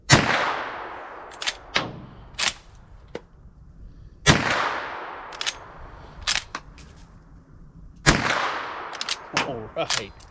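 A GForce Arms Saddlehorn .357 lever-action rifle fires outdoors toward the woods: three loud, sharp reports several seconds apart, each ringing off into the trees, with metallic clicks and clacks of the lever being worked between shots.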